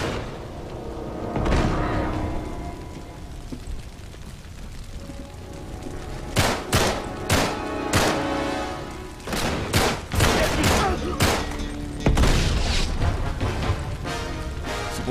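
In the video game Uncharted 3 on the PS3, a burst of gunfire comes in repeated loud, sharp shots. They cluster in rapid volleys over a rumbling battle background.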